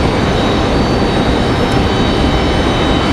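A Delta jet passes over Falls Lake near Raleigh-Durham, its engine noise a constant broad roar at a fairly loud level.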